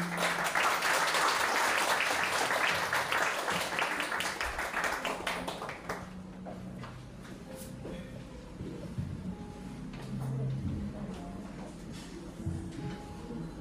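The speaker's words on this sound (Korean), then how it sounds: "뜨거운 박수로 환영 부탁드립니다" An audience claps in a dense burst at a book launch event in Seoul that fades after a few seconds into scattered claps and room murmur.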